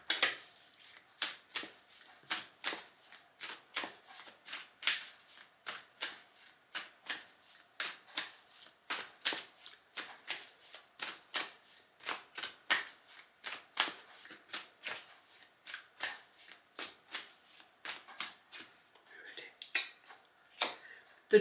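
Shamanic oracle card deck shuffled repeatedly, a long run of crisp riffling snaps in a steady rhythm, close and fairly quiet, with no talking.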